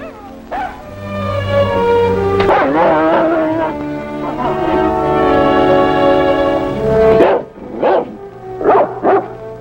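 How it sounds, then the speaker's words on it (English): A dog in an old Western radio drama, heard as a long, loud, drawn-out wavering cry that rises and falls for several seconds, followed by a few shorter yelping bursts near the end. "A howling dog started it all."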